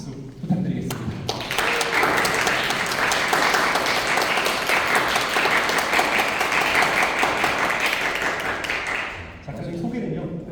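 A seated audience claps warmly to welcome an artist at an evening artist talk, with steady, dense applause lasting about nine seconds before fading, and a voice briefly heard before and after.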